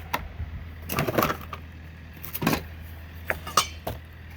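Empty metal gold prospecting pans are handled and set down on a table, giving scattered clinks and clanks at irregular intervals, close and moderately loud.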